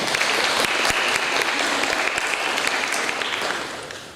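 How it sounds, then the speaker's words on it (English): Audience applauding at a National Honor Society induction ceremony, a dense, steady clapping from a crowd that holds strong, then tapers off toward the end. "Give these guys a big round of applause."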